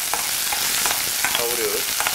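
Green onions sauté in a pan, a steady close sizzle broken by a few scraping stirs of a utensil, with no talking.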